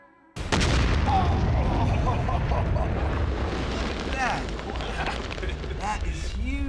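A massive explosive blast from the MythBusters Green Hornet test erupts after a moment of quiet into a loud, sustained boom and roaring rumble with debris, lasting several seconds, with voices reacting underneath.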